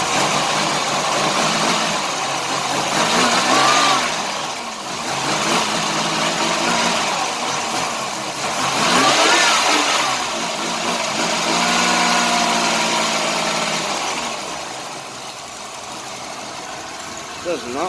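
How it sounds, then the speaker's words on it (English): A Chevrolet Lumina Euro with a 3.1 V6 engine, which has been misfiring, runs at idle and revs up in several swells that rise and fall. The engine is close and loud, and someone talks over it. "Can't help myself, I just want to rev it."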